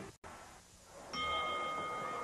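Wrestling ring bell struck at the start of a tag team match, a single bright ring that sustains and rings on over crowd noise in the arena.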